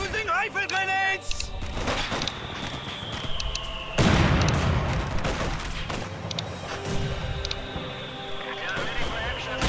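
Rifle grenades bursting in a Company of Heroes 2 match on the Port of Hamburg map, a heavy boom near the midpoint amid scattered battlefield fire and unit voice lines, with a person talking over it.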